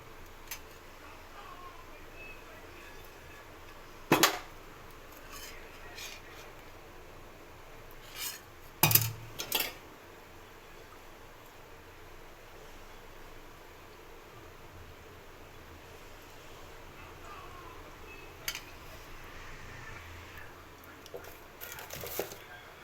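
Metal cookware clinks and clatters on a stove as a frying pan is set down to heat for frying fish, with a few sharp knocks over a quiet kitchen background and no clear pouring sound.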